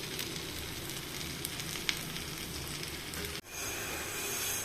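Butter sizzling in a hot pan with ground cashew paste, a dense, continuous frying hiss with faint crackles, close and steady, briefly dropping out near the end before swelling back.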